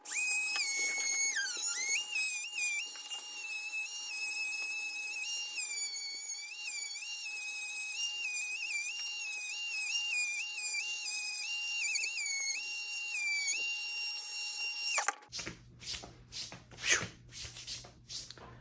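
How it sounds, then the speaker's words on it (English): A Dremel rotary tool works the edges of leather for a radio bucket. A loud, high steady whine wavers in pitch as the tool bears on the material, then stops, followed by several short rubbing and brushing strokes close by. "bust out the old Dremel just to save some time"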